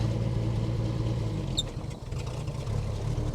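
A 1949 Chevrolet Deluxe engine idles and chugs along steadily at close range, a low, even rumble with a brief dip partway through.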